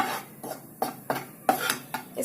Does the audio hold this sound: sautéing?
yes